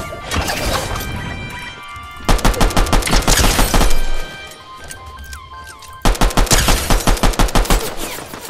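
Rapid bursts of Fortnite gunfire from a pistol-only match, loud and close, coming in dense rattling volleys separated by a short lull.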